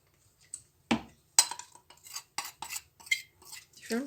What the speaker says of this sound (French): Mélangez la crème chantilly à la préparation au mascarpone.